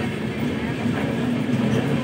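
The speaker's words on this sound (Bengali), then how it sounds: "পাশ দিয়ে যাচ্ছে একটা হলুদ রঙের ট্রেন" A yellow train passes alongside on the Bangalore to Mysore line, heard from inside a moving carriage as a steady loud low rumble and rolling rail noise, continuous throughout.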